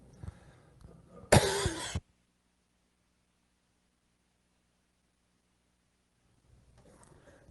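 A single loud, harsh cough bursts out after a little faint talk, followed by several seconds of near silence before quiet voices resume.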